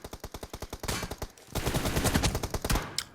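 Video game gunfire: rapid automatic bursts of sharp shots, first as an evenly spaced volley, then a denser, louder stretch of continuous firing.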